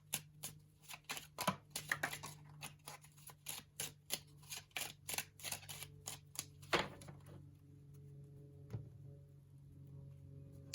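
Tarot cards are shuffled in a quick, uneven run of soft riffling snaps and taps, quiet and close, thinning out into near silence toward the end.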